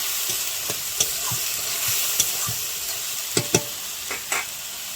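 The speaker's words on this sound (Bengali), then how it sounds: "দিয়ে দিলাম ধনে গুঁড়ো পেঁয়াজটাকে দিয়ে আর ভালো করে কষিয়ে নেব" Onions with coriander powder fry in a pan for a fish curry, a steady broadband sizzle running throughout while a spatula scrapes and taps the pan in scattered sharp strokes, close and fairly loud, with no talking.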